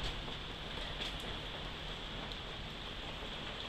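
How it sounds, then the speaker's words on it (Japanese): Steady, heavy rain pours down continuously in a broad, even hiss from start to end, dense and unbroken without any voices, falling hard enough to soak like a shower. "やまないわ雨、全然やまないわ。"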